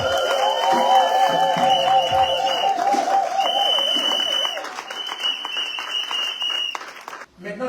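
A church congregation applauds and cheers loudly for the Lord at a French-language service, a dense, sustained wash of clapping with voices and tonal music woven through it for several seconds.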